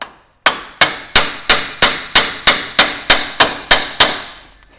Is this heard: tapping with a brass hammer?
yes